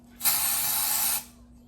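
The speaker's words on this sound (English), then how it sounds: "I'm gonna put some dry shampoo here. My hair gets really oily. I'm spraying my hair" A single steady aerosol spray of dry shampoo onto hair hisses for about one second, close and fairly loud, then stops.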